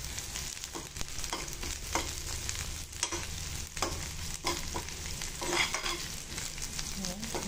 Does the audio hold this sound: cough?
no